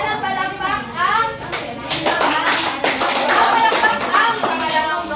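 Schoolchildren clap for the second group of pupils in a Grade 5 class, a scattered round of applause over children's voices and chatter, near and lively.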